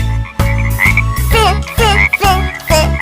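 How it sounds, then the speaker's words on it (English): A frog croaks in a quick series of loud, close, throaty pulses, each with a rising vocal tone, repeating about six times in a steady rhythm. "F is for frog."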